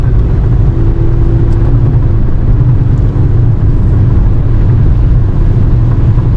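A Mercedes engine running rough fills the space with a loud, steady, low rumble that drones on without a break, heard up close and with no one speaking.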